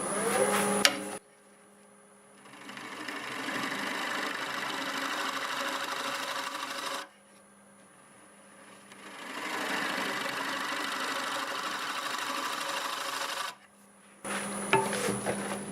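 A lathe gouge cuts into spinning maple wood with a steady rasping roar, in two long passes separated by quieter gaps where only the lathe's motor hum remains.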